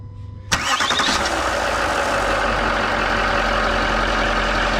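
A Range Rover L405 engine cranks and fires, then settles into a steady, loud idle close by, with a low rumble that continues to the end.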